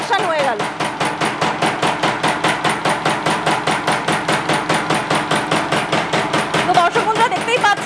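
A rubber slipper making machine pounds steadily in a fast, even rhythm of loud, close mechanical thumps, roughly three to four per second, continuous throughout.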